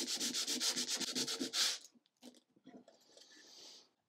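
80 grit 3M abrasive sands a surface in quick, rhythmic back-and-forth rasping strokes, close and fairly loud, before slowing into a few lighter, scattered scrapes and a final soft rub.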